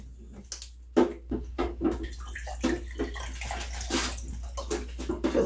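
Tap water runs into a glass while simple syrup is being made for a watermelon cocktail, a close splashing and gurgling stream with uneven bursts and small clinks, no voice heard.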